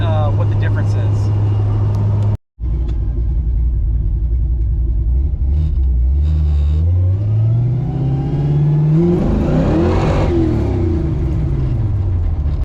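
A Ford car engine fitted with a modified Duraspark distributor, lighter advance springs and limited advance, revs hard through a first-gear pull, its loud, close roar climbing steadily in pitch after a brief cut, then dropping back.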